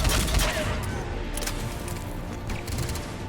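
A mounted gun fired by a trooper in Mass Effect 3 rattles in bursts amid a loud battlefield roar, shots moderately near and dense at the start before thinning out.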